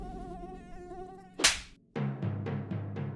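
A mosquito buzzes as a thin, wavering whine, followed by a sharp burst and a series of rhythmic plucked tones that sound in a regular pattern, all fairly faint.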